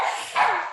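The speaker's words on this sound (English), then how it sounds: "My doggy keeps on yapping" A new puppy yaps indoors in a short, loud burst of high barking close to the listener.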